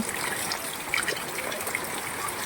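Water runs steadily from a pressure barrel used for drinking water, collected from rain, making a continuous close trickling gush with no talk over it.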